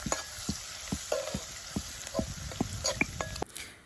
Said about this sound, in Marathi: वाटून घेतलेलं आलं लसूण आणि मिरचीची पेस्ट आहे ती या तेलामध्ये टाकून लसूण लालसर होईपर्यंत परतून घ्यायचं आहे